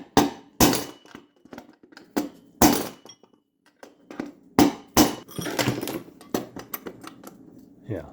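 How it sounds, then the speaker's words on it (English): Sharp metallic hammer blows on a vintage RV part being bent and flattened, a dozen irregular strikes of varying force with ringing decays and short pauses between. "I'm just going to try to bend this whole thing forward or hammer it down."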